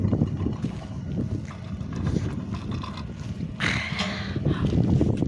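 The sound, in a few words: strong wind on a mountain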